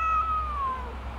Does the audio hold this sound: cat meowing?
yes